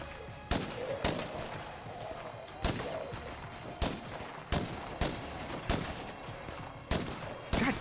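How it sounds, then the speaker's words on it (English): Gunfire in the video game State of Decay: about a dozen sharp, loud single shots come at an uneven pace, a few close together, over a steady low background. "Just gunning them motherfuckers down."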